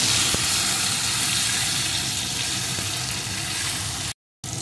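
Gathi kochu (taro) pieces frying in a pan, giving a steady close sizzle that runs almost the whole way before a brief drop to silence near the end.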